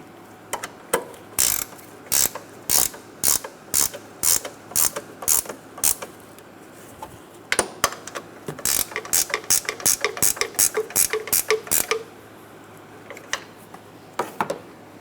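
A hand ratchet clicks in rapid, close bursts while tightening strut mount bolts on a 2007-2012 Nissan Altima, runs of crisp pawl ticks pausing briefly and then speeding up into a dense sequence before tapering off.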